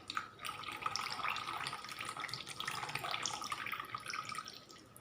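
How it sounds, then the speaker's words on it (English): A steady trickle of a quarter cup of water pours and splashes into maize flour for several seconds, close and fairly quiet, with no talking. "Now add 1/4 cup of water in it."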